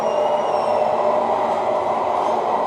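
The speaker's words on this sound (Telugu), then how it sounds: "ఇదేంది? ఇది ట్రైన్ అనుకుంటా." A metro-style train running at high speed, a loud, dense, continuous rumble and rush heard from close by, steady throughout with no talk.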